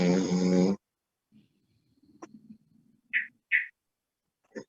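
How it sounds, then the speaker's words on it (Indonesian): A person snoring near a microphone during a Quran review session, a few short separate snorts and rasping breaths, moderately loud against near silence, following a brief burst of speech at the start. "Ada yang ngorok masuk mic ini."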